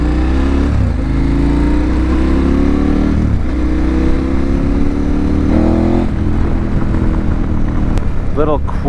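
A KTM 1290 Super Adventure motorcycle engine revs loudly and steadily as it accelerates, with rising tones on each pull and steady rumble throughout, and a brief voice near the end.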